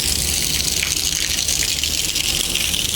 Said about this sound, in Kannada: ನೋಡಿ ಇಲ್ಲಿಂದ ಜೋರಾಗಿ ಇರುತ್ತೆ ನೀರು ಬೀಳ್ತಾ ಇರುತ್ತೆ